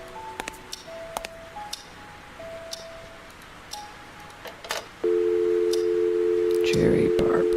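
A phone call being dialed in the PC video game Scratches: a series of short keypad tones and clicks, then a steady ringing tone that holds for the last few seconds, fairly loud and alone.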